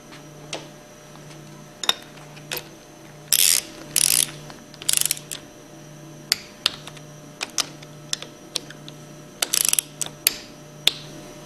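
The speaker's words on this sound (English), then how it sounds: "Reinstall the end cover bolts and torque them between 100 and 110 inch-pounds." A torque wrench clicks and ratchets while end cover bolts are tightened on a Hypro 2400 plunger pump held in a vise, giving short sharp clicks and several brief bursts of rapid ratcheting, close and alone.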